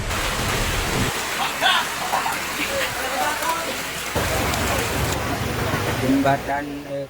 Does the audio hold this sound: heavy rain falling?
yes